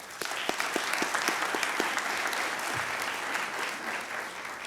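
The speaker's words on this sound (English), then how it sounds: "please give them a round of applause" A crowd claps steadily in sustained applause at a police chief swearing-in ceremony, dense and even throughout, with a few sharper individual claps standing out early on.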